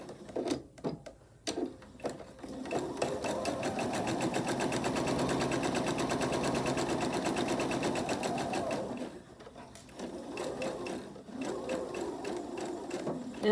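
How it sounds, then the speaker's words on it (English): A sewing machine runs a 1/4 inch seam in one sustained burst of fast, even needle chatter at close range, preceded and followed by brief handling clicks and quieter pauses. "I'll take it to the machine and I'll sew 1/4 inch seam allowance right along here"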